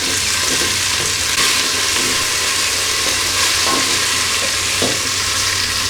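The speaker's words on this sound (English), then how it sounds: "Put in the onions, and we just want to cook those through for a couple of minutes." Onions fry over medium heat in a pan with a loud, constant sizzle. Occasional soft knocks from a stirring utensil come through, and no one speaks.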